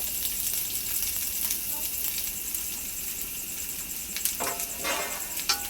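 Chopped onions frying in oil for biryani give a steady hiss with sharper sizzling bursts near the end. A person talks over the cooking.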